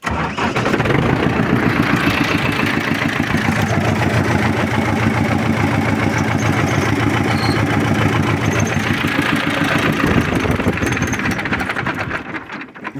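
An SMD diesel engine fitted to a YuMZ tractor runs steadily at close range, a loud, continuous, rough mechanical clatter that holds even for about twelve seconds before easing slightly at the end.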